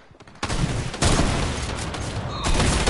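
Gunfire erupts in a Fortnite match: a few quick shots, then a loud, sustained barrage of rapid fire and explosive bursts that keeps pounding, close and without speech.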